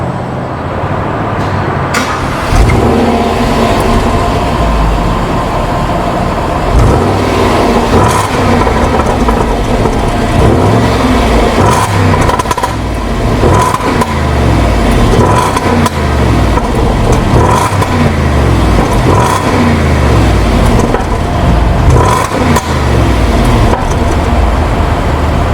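A supercharged 5.5-liter V8 in a 2011 Jaguar XJL large sedan pulls hard under acceleration, a loud, steady engine roar with rising revs that runs for the whole stretch without any voices.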